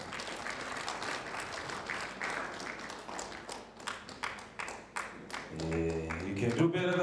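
A round of applause from an audience at a local economic development awards event, many hands clapping in a moderately distant, uneven patter before a voice comes in near the end.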